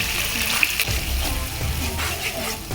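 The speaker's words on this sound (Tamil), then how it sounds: "மிக்ஸி ஜார் கழுவு தண்ணி ஊற்றிக்கலாம்" Water from rinsing a mixer jar splashes and pours steadily into a pan of cooking chicken masala, with a soft sizzling, bubbling texture underneath and a couple of small clinks.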